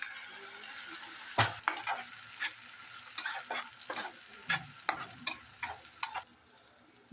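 Tomato puree frying with spices in a pan, heard alone as a soft steady sizzle broken by a series of sharp scraping stirs at close range.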